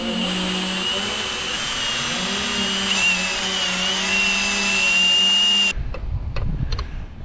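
A power drill with a 1/4 inch bit bores a hole during a Wolfbox G900 installation. The motor holds a loud, steady whine for about six seconds, then cuts off and leaves brief handling clatter.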